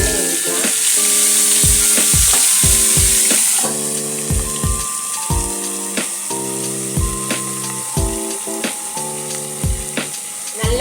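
Tomato curry leaf kebabs fry in hot oil with a steady, loud sizzle. Near, rhythmic clatter and scraping from a pan or utensil repeats over the frying.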